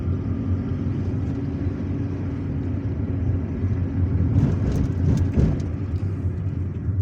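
A car rolls through the streets of Algiers, a steady low engine and road rumble close by, with a few brief clatters near the end and no voices.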